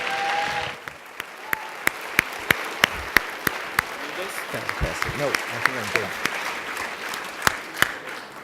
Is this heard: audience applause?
yes